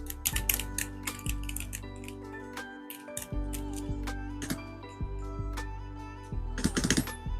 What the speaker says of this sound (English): And this is a mechanical keyboard.